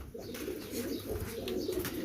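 A male and female pigeon pair coos softly nearby, giving low repeated throaty calls over a couple of seconds, with faint background noise.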